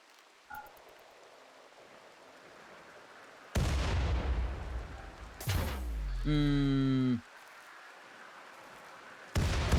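Gunfire and explosive bursts from colonists and defensive turrets in the colony-building video game RimWorld, loud broadband blasts with rapid repeated shots and a descending zapping tone, separated by quieter stretches.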